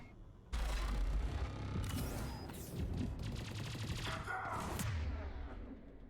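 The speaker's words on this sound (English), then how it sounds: "Oh my god, the turret can hit me from here?" Turret gunfire in the Mass Effect 3 game cracks out in rapid bursts, dense overlapping shots and metallic mechanical clatter, loud and sustained for several seconds before trailing off.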